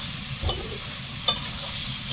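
Grated carrots cook in ghee for carrot halwa, a soft steady sizzle broken by two distinct scraping stirs of a spoon against the pan, close by.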